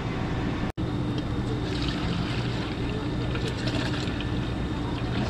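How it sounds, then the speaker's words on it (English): Coolant pours and trickles into the radiator of an Infiniti FX35/FX37/QX70 after a leak repair, a steady dense liquid wash that fills the whole stretch with one brief break near the start. "Now we're gonna refill it with coolant."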